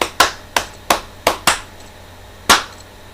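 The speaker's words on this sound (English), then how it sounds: "I give you a clap" Six sharp, dry hand claps, close and distinct: five in a quick, uneven burst, then a pause before a final louder clap, with no talking.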